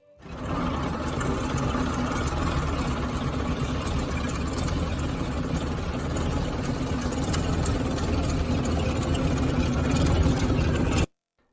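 A vintage Rolls-Royce 7.4-litre inline six-cylinder engine idles at about 150 rpm with a low, even mechanical rumble and faint ticking, continuous for about ten seconds before cutting off abruptly.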